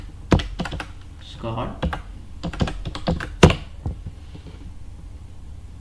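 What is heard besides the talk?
typing a password on a computer keyboard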